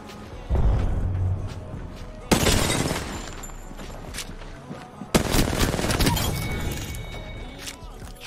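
Heavy gunfire in the Apex Legends video game comes in dense, loud bursts of rapid shots, with sharp impacts standing out between the volleys.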